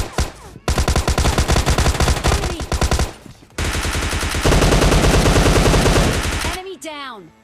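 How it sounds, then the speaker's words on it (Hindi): An UZI submachine gun in PUBG Lite fires long, loud, rapid automatic bursts, broken by a short pause, then the shooting stops and a few brief game sounds follow. "इस वाले गन से अब भैया गोलियां निकलेगी"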